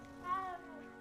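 A cat in Hogwarts Legacy gives one short, clear meow, rising then falling, close and alone.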